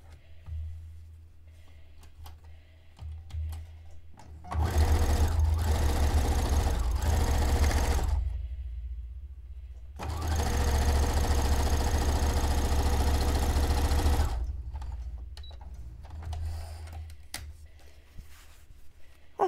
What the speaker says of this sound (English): All right, stitch this side.